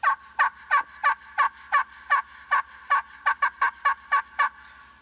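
A turkey locator call on a slate or glass friction call gives a loud, close series of about fifteen sharp, evenly spaced yelps, quickening slightly toward the end and heard alone.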